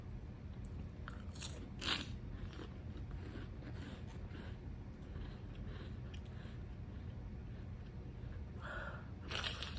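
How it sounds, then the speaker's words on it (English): Someone chewing food with the mouth open, soft wet crunches and bites repeating steadily and close to the mic against a low background rumble, with a couple of louder crunches. "I can't breathe as I'm chewing, so I gotta chew with my mouth open"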